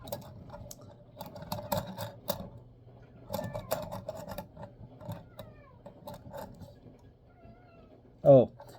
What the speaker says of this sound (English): That's my cat wanting to go outside even though it's wintertime.